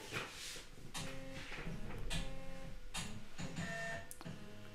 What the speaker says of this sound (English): my scanner flatbed came into action